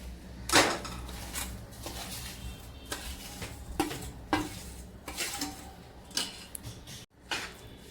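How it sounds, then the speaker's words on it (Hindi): A spoon stirs urad dal batter into a jaggery mixture in a pan while making Gujarati adadiya pak, giving a run of close, irregular scraping strokes over a faint background hiss. "अब यह बैटर मैं इसके अंदर डाल रही हूँ"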